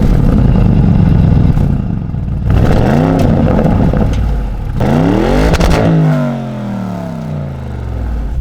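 A 2020 Porsche Cayenne Turbo Coupe with a 550 PS engine accelerates hard. Loud revs climb in repeated rising sweeps broken by brief dips at each gear change, and the engine note fades slightly at the end.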